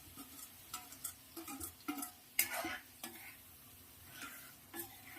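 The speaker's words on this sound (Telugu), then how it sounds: "ఉప్పు వేసుకొని ఇలా కలిపేసుకుందాం." Salted tomato curry being stirred in a pan over a medium flame, giving a series of soft, irregular scraping and clinking strokes with a light sizzle underneath, close and fairly quiet.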